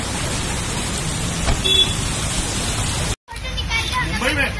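Steady rain falls in the open in Mumbai as a crowd gathers around a celebrity couple sheltering under an umbrella, a dense broadband hiss with voices calling out over it and a brief dropout near the end.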